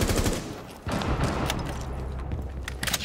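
Rapid automatic gunfire bursts from the Rainbow Six Siege video game, loud and close, a rattling volley at the start followed by scattered shots and sharp cracks near the end.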